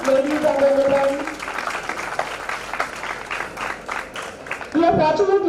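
A conference audience applauds the chief guests at the PIMR international conference: broadband clapping from a large crowd fills the middle, with a voice over a public address system audible at the start and end.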